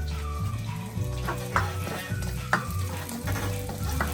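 Garlic fries in a pan for chicken adobo, crackling and sizzling loudly and steadily, with the scrape of stirring and a few sharper pops at intervals.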